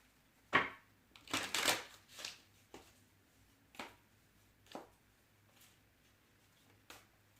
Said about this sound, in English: maintain while we shuffle